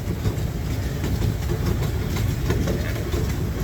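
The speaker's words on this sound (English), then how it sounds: "I'm going to give you guys a couple seconds here of the train as we go into the campground area" Knoebels amusement park train rolling steadily into the campground area, a continuous close rumble with faint rhythmic clatter of the cars on the track, no voices.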